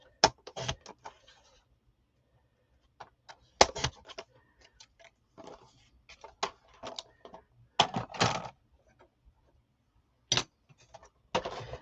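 Paper strips being cut for a file folder album: a series of short, sharp crisp snips and clicks in irregular clusters, close and fairly quiet against near silence, with no talking.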